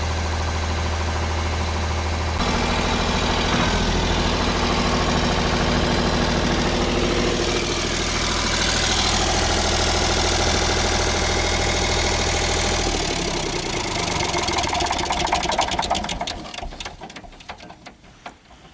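An old tractor engine idles steadily at about 1300 rpm, a loud continuous mechanical drone with a firm low pulse that stays even before fading and cutting out near the end.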